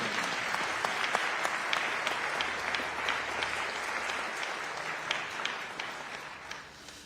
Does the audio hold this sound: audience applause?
yes